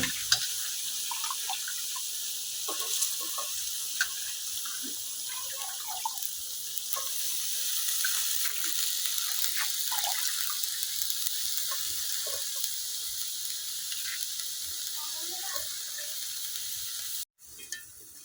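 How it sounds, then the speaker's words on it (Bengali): Washed cabbage goes into hot spiced oil in a village kitchen, making a steady, bright sizzle that holds throughout. A few faint clinks and stirring sounds are scattered across it. "এখন দিয়ে দেব আমি ধুয়ে দেওয়া বাঁধাকপি গুলা।"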